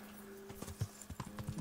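Hooves clip-clop in an uneven walking rhythm from a horse named Pebbles in the video game Kingdom Come Deliverance, several distinct close thuds following a quieter start, with no talk over them.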